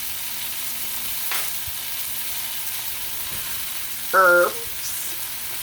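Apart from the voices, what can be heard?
stirring salt and herbs into a hot pan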